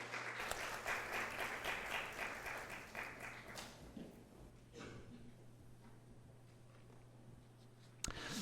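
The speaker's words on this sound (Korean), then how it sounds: "박수하겠습니다." A church congregation applauding steadily for several seconds during a Sunday service, then the clapping fades to quiet room noise, with a sharp knock near the end.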